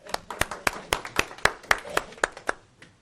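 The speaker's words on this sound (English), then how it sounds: "Give her a round of applause" An audience at a business coaching talk gives a round of applause, heard as about a dozen crisp, evenly spaced claps in a steady rhythm that fade at the end.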